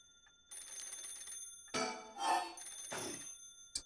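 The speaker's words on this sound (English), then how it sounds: "No, answer the phone!" A telephone rings in the horror video game Paranormasight, loud, with repeated ringing bursts through the middle and end of the clip and no talk over it.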